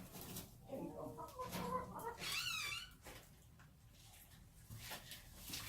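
A curly-feathered hen clucks and squawks in short agitated bursts while being held close by hand, with a brief higher rising call in the middle and faint background sounds.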